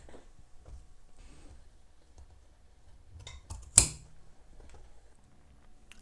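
Scissors snip off excess bias binding fabric in one sharp, brief cut, close and fairly clear against a quiet background with light handling noise before it.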